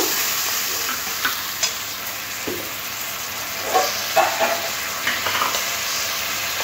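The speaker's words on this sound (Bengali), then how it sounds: "মশলাটাও পেঁয়াজের সাথে খুব ভালো করে মিশিয়ে নেব।" Spice paste fries with onions in a pan for a pointed gourd masala curry, a steady close sizzling hiss with occasional scraping stirs and soft clinks, no voices.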